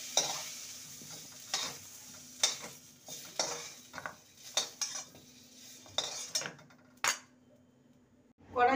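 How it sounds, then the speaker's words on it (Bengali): Pumpkin and potato pieces fry in a pan with a soft background sizzle, broken by repeated sharp metallic scrapes and clinks of a spatula stirring and lifting them, close and alone. "কুমড়ো আর আলুকে ভেজে নিয়েছি, এবার তুলে নেব।"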